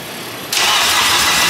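A 400hp K20/K24 engine in an EG hatch catches on its first start, a loud burst that settles into a rough, steady running roar right up close.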